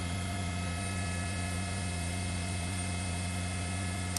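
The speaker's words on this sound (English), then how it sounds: "there's that LAPD helicopter. You just saw it crossing our picture there" An LAPD police helicopter flies overhead above city streets, its rotor and engine making a loud, constant droning hum that stays steady and unbroken from start to finish.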